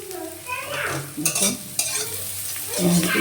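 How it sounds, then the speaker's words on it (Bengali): Chickpeas fry in a pan with a close, steady sizzle and repeated scraping stirs of a spatula, the stirring strokes coming in irregular bursts. "দেখো আমার ভাজা হয়ে গেছে খুব বেশি ভাজবো না"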